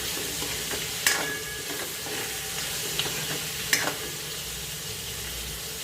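Onions frying and stirred in a pan for palak paneer, a steady sizzle with a few sharp spoon scrapes and clinks, close and alone without talk.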